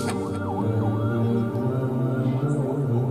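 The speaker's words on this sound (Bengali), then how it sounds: "ডানে কি অ্যাম্বুলেন্স যাচ্ছে" An ambulance siren passes outside, its wailing tone rising and falling over a steady low hum of traffic, fairly loud and continuous with a faint voice nearby.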